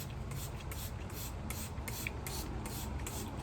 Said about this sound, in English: I've used like almost this whole spray bottle full.